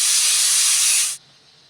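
Loud, steady steam hiss from a pressure cooker venting after its whistle while cooking matki usal, holding for about a second before cutting off abruptly to near silence.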